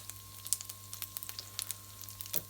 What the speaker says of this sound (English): Let them fry there. You'll hear them popping guys.